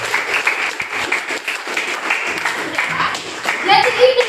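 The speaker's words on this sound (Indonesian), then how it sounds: "Silakan dulu ini tepuk tangan dulu tuh." Classroom applause during a physics lesson: a short burst of many hands clapping together, mixed with children's voices.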